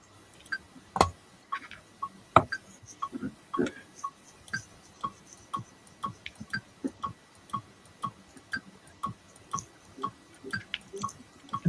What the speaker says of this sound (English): It sounds like a dripping tap